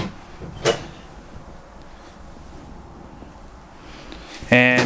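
Kitchen drawers in an off-road travel trailer slide open and shut, giving a brief clatter near the start and a louder rattling bang at the end, with quiet room tone between.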